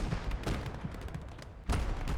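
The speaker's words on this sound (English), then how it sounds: "I think actually I'm gonna get like this train cannon strike there." A train cannon artillery strike in the World War II strategy game Gates of Hell: Ostfront, set in the Finnish winter war, lands as a string of heavy booms and rumbling impacts, with one louder blast near the end.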